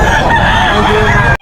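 A rooster crows loudly and close at a busy pet market in Bocaue, its drawn-out call carrying over steady crowd noise for more than a second before cutting off abruptly.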